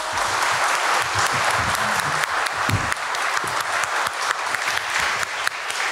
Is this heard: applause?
yes